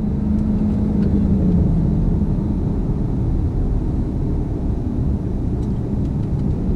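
A 2016 Dodge Charger R/T Scat Pack on a test drive, heard from inside the cabin, gives a steady deep engine rumble that shifts slightly in pitch as it pulls through the gears.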